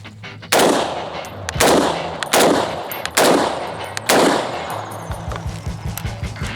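Five loud, sharp SOCOM 16 rifle shots firing 7.62 rounds outdoors, spaced roughly a second apart, each with a ringing decay, followed by lighter clicking.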